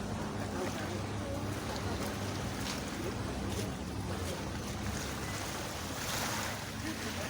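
A jet ski rides on a river at a water park in Sidoarjo, heard from a distance as a steady wash of water and engine noise blended with wind, faint and continuous.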